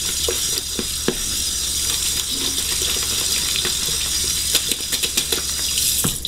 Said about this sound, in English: You want to rinse them in cold water.